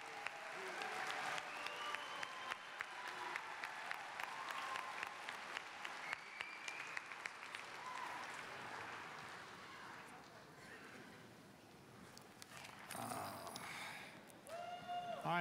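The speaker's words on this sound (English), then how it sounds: "Standing ovation." Graduation crowd rises in a standing ovation for the graduates, sustained clapping that fills most of the stretch, thins briefly near the end, then swells again with scattered cheers and murmuring.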